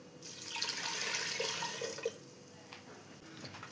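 Water poured into a pot of onion sambar, a steady rushing pour that runs for about two seconds before easing off into quieter trickles and faint kitchen clatter.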